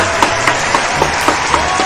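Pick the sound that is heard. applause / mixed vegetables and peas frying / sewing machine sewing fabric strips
applause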